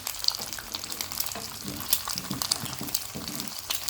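Chicken wings sizzle and crackle steadily in a pan, a busy frying hiss with scattered pops, close and moderately loud, no voices.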